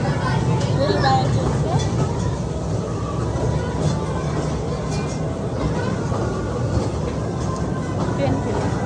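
A train ride rumbles through an amusement park, its steady mechanical clatter and hum running continuously under a loud babble of crowd noise and nearby talking.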